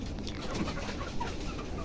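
Farm and native chickens in a small shed coop, low clucking and soft bird murmurs spread through a steady background hum, nearby and fairly quiet, with no one talking.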